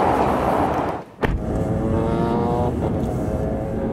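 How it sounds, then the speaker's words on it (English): Race cars roar steadily past on a track, a loud continuous engine wash with one car whooshing close by partway through before the drone resumes. "I can see the cars going by"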